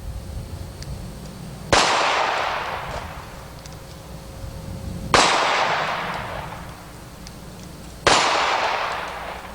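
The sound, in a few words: gunshots with lead bullets hitting steel targets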